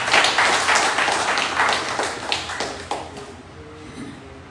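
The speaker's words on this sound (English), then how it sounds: "Ladies and gentlemen, you people deserve better applause." Audience at a lecture clapping, a loud, close burst of applause that thins out and fades to scattered claps and quiet by the end.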